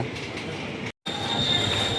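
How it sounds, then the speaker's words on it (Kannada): Steady rumble and rattle of a train pulling away on a trip to Bengaluru, with a thin high squeal from the wheels; the sound cuts out briefly partway through. "ನಮ್ಮ ಟ್ರೈನ್ ಹೊರಟಿದೆ"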